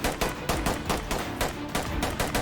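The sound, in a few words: gunfire exchange in a tactical SWAT shooter video game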